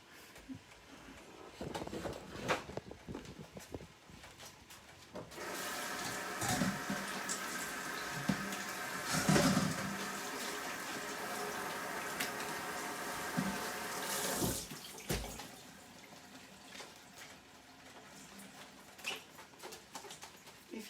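Tap water runs into a kitchen sink while cabbage is washed for soup, a steady hissing stream with splashing and patter that swells in the middle; no one speaks.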